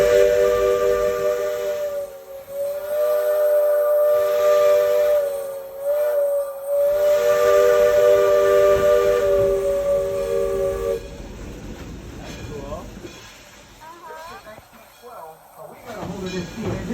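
Number 1 steam locomotive, built in 1912, sounding its whistle: a loud, sustained multi-tone blast with brief breaks, then dropping away into rumbling train noise and chuffing as it ends.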